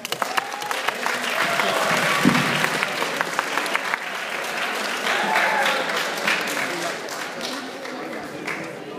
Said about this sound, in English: please give a warm round of applause for Mr.